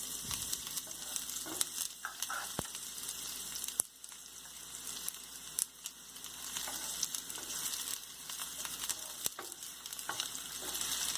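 Chopped onions hiss and crackle in a hot pan while pasta sauce is being made, with a steady sizzle broken by occasional spatula scrapes and clinks. Nobody speaks.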